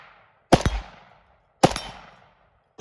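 Three sharp, loud rifle shots from a Cetme Model L chambered in 5.56 NATO, spaced about a second apart, each with a short echoing decay into silence.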